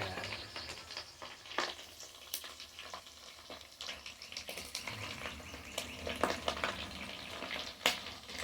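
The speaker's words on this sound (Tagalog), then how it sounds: "Scramble egg, saka prito." Scrambled eggs frying in a pan for a home breakfast, a steady crackling sizzle with scattered sharp pops and spatters throughout, close and moderately loud, with no talking.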